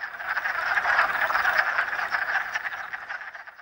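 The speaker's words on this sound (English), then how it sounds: "The call of a wood frog sounds like a quacking duck." Male wood frogs call in a dense chorus at a vernal pool, a steady overlapping mass of clucking, duck-like croaks at moderate distance.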